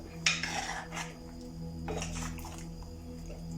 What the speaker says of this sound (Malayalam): നമുക്കിതിലേക്ക് കുറച്ച് കല്ലുപ്പിട്ട് കൊടുക്കാം. ഇതൊന്ന് ഇളക്കി കൊടുക്കാം.